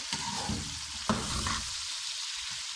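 Potato and eggplant pieces fry in hot oil in a pan with a steady, close hiss. Stirring clatters and scrapes against the pan through the first half, then the sizzle continues alone.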